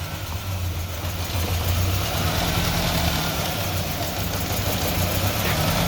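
A Ford Ranger with a swapped-in V8 idles steadily after a rough start, a loud, continuous low rumble with a slightly uneven pulse and no talking.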